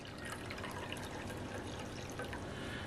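Hot water pouring into a bowl for dough, a soft continuous splashing and trickling, fairly quiet and steady.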